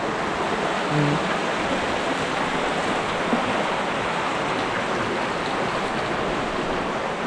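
A forest stream flowing with a steady, broad rush of water, continuous and unbroken, close and moderately loud, with no voices.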